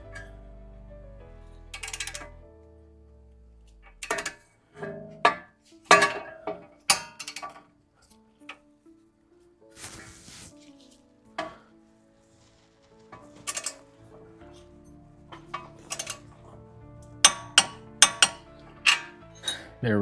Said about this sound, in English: All right, time to torque this down to 59 foot-pounds.